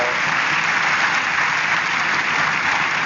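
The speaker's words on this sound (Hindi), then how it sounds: "सो जोरदार तालियों से स्वागत करिए प्रज्ञा का" Dense, continuous audience applause fills the room at an even, loud level, with no voices over it.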